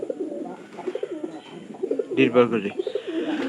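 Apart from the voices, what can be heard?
pigeon cooing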